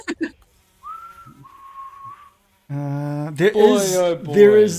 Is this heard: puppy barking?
no